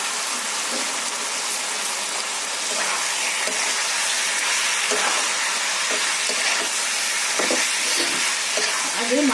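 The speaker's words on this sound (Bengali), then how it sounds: "আগে মাংসটা এর সঙ্গে একটুখানি ভেজে নেবো, ভাজা ভাজা হয়ে গেলে ভালো হবে, এর মধ্যে রসুনের ফ্লেভারটা ঢুকে যাবে।" Mutton frying with garlic in a pan, a dense continuous sizzle with occasional stirring scrapes, loud and close throughout.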